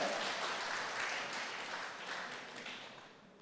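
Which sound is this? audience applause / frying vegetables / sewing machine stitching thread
audience applause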